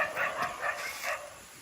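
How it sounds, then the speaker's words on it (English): Several dogs bark somewhere off in a quiet forest setting in northern Thailand, about four fairly distant barks in a loose rhythm, no one speaking over them. "Minus the dogs. Yeah, they're very upset we're out here."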